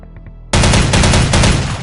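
Loud, sustained automatic fire from an OICW rifle using 5.56 ammunition in the shooter game Soldier of Fortune 2, bursting in abruptly after a quiet moment and rattling on as a dense, continuous volley.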